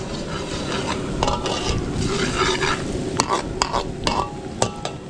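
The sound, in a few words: garlic frying in butter in a pan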